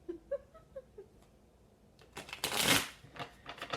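Tarot cards riffled and shuffled by hand during a reading, a brief crisp burst of papery flutter after quieter handling noises, fairly close and loud.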